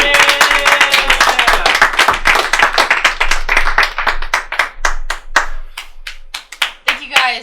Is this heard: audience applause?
yes